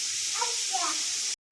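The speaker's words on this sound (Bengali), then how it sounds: "এবার কাঁঠাল ভেজে নিলাম, কাঁচা কাঁঠাল।" Raw jackfruit pieces frying in hot oil give a steady, loud broadband sizzle that carries almost unbroken for over a second before cutting off abruptly.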